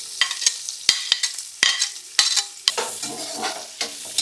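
Sliced onions and green chillies sauté in oil and ghee with whole spices, a close, bright sizzle punctuated by repeated sharp spatula scrapes and clacks against the pan as they are stirred.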